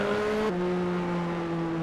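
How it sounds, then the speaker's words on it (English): Race car engine in a racing manager game league at Spa, a steady high-pitched whine holding one tone, then dropping to a lower pitch as the gear changes, droning continuously and fairly loud with no talk. "Irvine just managing the car here for Williams"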